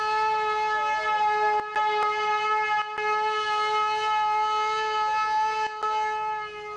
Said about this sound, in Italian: una vecchia sirena dà il segnale di avvicinamento.